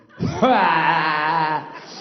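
A voice imitates a dry heave as a single long, strained, keening moan that rises sharply then holds for over a second before cutting off, loud and close.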